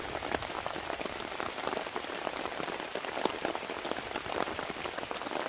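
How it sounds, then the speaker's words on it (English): Rain drums on a tarp strung over a hammock outdoors in October, a dense, steady patter of close drops with no voices. "we're getting quite a little bit of rain. It's running right off the tarp down there."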